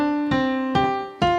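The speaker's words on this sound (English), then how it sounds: "where today you're going to be learning the classic piano melody," Three distinct piano notes ring out one after another in an even, unhurried rhythm as a piano plays the second phrase of Happy Birthday, close and clear with no speech.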